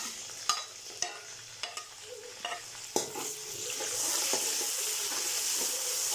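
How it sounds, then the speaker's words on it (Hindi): Ginger garlic paste, tomato and green chili frying and being stirred in a pot for vegetable pulao, with a steady close sizzle swelling louder toward the end and several sharp clinks and scrapes of a spoon against the pan. "अभी इसको अच्छे से भून लेंगे।"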